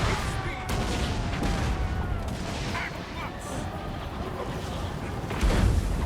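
Artillery fire in the strategy game Total War: Warhammer during an Empire defensive multiplayer battle, a dense, continuous roar of booming cannon shots and battle noise with heavier blasts near the end, and someone talking over it.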